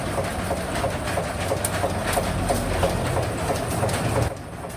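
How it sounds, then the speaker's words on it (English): A sugarcane peeling machine strips the outer layer from stalks at a small roadside shop in Vietnam, a steady loud mechanical rumble and rattling whir that runs continuously, then drops slightly near the end. "the machine automatically removes the outer layer of the sugarcane"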